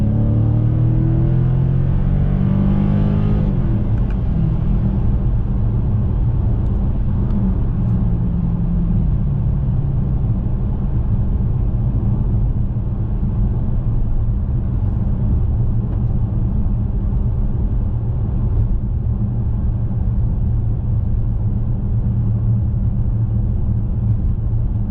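A Dodge RT ScatPack Widebody pulls hard on a night road. Its engine gives a loud, steady, deep rumble that rises early and then holds a dense low roar from inside the cabin.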